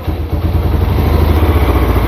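A Yamaha Tri-Moto three-wheeler engine idles steadily and loudly up close, a continuous low rumbling putter with a slight metallic clatter running through it.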